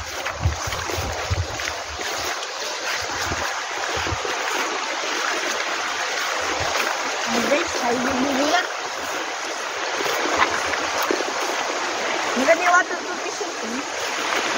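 Water flows and rushes near a waterfall in the Philippines, a continuous broad wash with a voice speaking over it at times.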